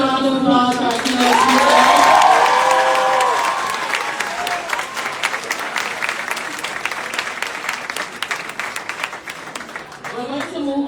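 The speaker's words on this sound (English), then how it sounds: "can we give another round of applause for our keynote speaker?" Audience at an African Student Union event applauds a keynote speaker: dense, loud clapping and cheering that swells early, then thins into scattered claps, with a voice rising over the crowd at the start.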